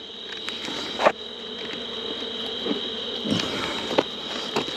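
A steady, high-pitched insect buzz of many bees around a hive at night hums continuously, with a few soft knocks and scrapes breaking through now and then.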